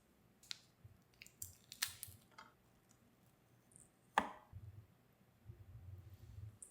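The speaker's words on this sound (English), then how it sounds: "I'm gonna take a paring knife and cut it down the middle and butterfly it" A paring knife slices down the middle of raw shrimp to butterfly them, giving scattered soft cuts, clicks and squishy taps at close range over a quiet kitchen, with no talking.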